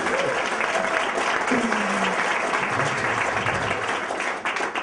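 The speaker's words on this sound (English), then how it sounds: "Give her a huge round of applause." A crowd applauds steadily, a full wash of clapping that carries on for several seconds before starting to thin out.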